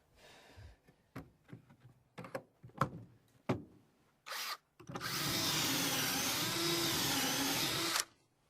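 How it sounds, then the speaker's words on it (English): A few short knocks and taps, then a power drill boring a pocket hole in wood for a rustic X bench whirs loudly and steadily for about three seconds before stopping abruptly. "And we'll just go ahead and drill one more."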